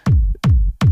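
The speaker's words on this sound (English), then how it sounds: "created a nice little thumpy techno kick" Three punchy layered electronic techno kick drums in a steady pulse, each a deep thumping boom with a short clicky attack, playing alone.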